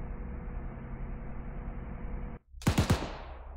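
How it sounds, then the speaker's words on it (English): A short, rapid burst of three or four machine gun shots in Arma 3, a military video game, loud and close, following a steady hiss that cuts off abruptly just before the burst. "free engage with your machine gun"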